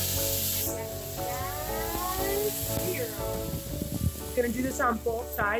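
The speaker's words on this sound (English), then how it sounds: "So big frying pan on, and our pork chops that we're marinating in the bag." Marinated pork chops sizzle steadily in a big frying pan, a continuous hiss and crackle running close by throughout while a person talks over the cooking.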